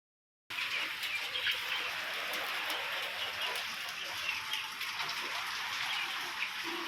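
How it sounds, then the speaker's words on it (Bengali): Heavy rain falls during Cyclone Remal. After a brief silence a dense, constant hiss of downpour starts abruptly and stays loud and even throughout, with faint bird calls behind it. "দেখুন কি পরিমাণ বৃষ্টি হচ্ছে"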